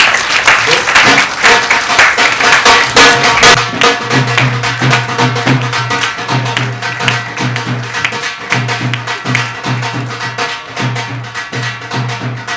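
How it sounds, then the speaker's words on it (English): An audience at a book award ceremony in a hotel breaks into loud, sustained applause, a dense continuous clapping that stays strong throughout. "can we give him a huge round of applause for his book?"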